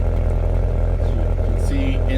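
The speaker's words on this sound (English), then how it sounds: "So you can hear that those valves open." A C7 Corvette with an NPP exhaust idles with a steady low rumble as its exhaust valves open, the engine running close by while someone talks over it.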